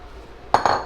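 Tuna goes into a pot of nearly cooked potato stew for Spanish marmitako, and after a quiet moment two or three quick, bright clinks ring out as a utensil knocks against the pot.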